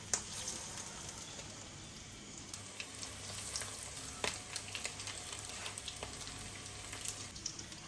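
Tuna fish cutlets, already cooked, fry in a pan with a steady, fairly quiet sizzle and scattered pops and crackles, without voices.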